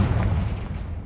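Confringo fire spell cast in Hogwarts Legacy, a dense, loud low-frequency blast with rumbling explosive texture filling the whole short moment, no voices.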